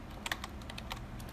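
Typing on a computer keyboard at a Windows PC, a short run of soft, quiet key clicks at an uneven pace, heard close and alone.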